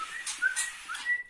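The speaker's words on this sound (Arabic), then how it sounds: "هذا صغير طائر الكوكتيل" A cockatiel chick gives a few thin, high whistling cheeps in quick succession, close and fairly soft against a quiet room.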